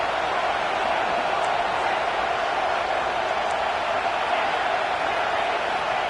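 In an American football video game, a stadium crowd gives off a steady, dense roar with no breaks, like a wall of broadband noise filling the whole stretch.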